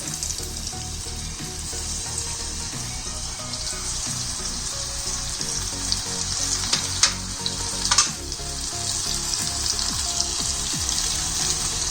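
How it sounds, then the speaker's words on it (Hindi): Onion rings fry in oil over low heat, a steady dense sizzle running throughout, with a couple of brief sharper crackles midway, close and continuous with no voices. "अभी हम इसको एक एक करके फ्राई करना स्टार्ट करते हैं।"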